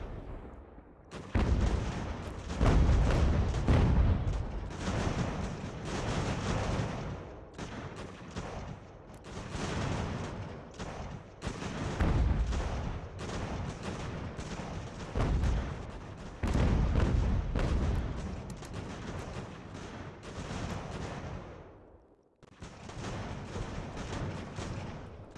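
Artillery and musket fire in Ultimate General: American Revolution, where a fort is being defended. Dense, continuous volleys and booms rumble almost without pause, dropping briefly before resuming.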